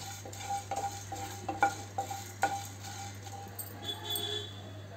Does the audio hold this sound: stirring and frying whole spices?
yes